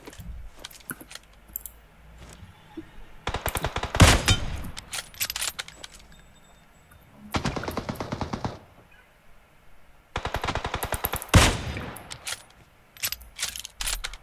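Automatic gunfire from PUBG Mobile rattles in several rapid bursts of a second or more, separated by quieter gaps with faint lighter shots, loud and close.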